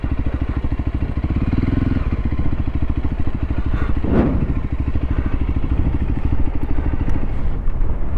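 A Voge 300 Rally motorcycle engine runs steadily up close, a continuous mid-pitched thrum with a brief rise in revs partway through as the bike pulls in.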